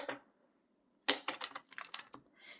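Tarot cards shuffle with quick, crisp riffling and flicking, a single snap followed by a busy burst of close, faint card noise, then a lighter rustle.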